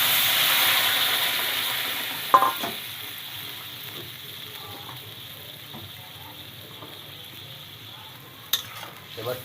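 Koi fish fries in hot oil with nigella seeds, a loud hissing sizzle that is strongest at first and gradually fades, broken by a couple of sharp clanks of a utensil against the pan.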